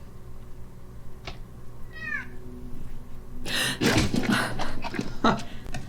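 A cat meows inside the video game Telling Lies, a single downward-curving meow standing out clearly before a burst of louder, busier noise and movement takes over the rest of the moment.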